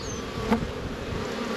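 Honey bees buzzing around a Bellow hive just out of winter, a steady close drone of many wings with one bee passing louder near the microphone, no talking.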